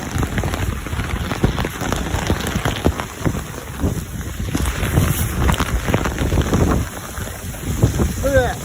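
Heavy rain pours down steadily outdoors, a dense continuous hiss and patter with gusty wind buffeting the microphone throughout.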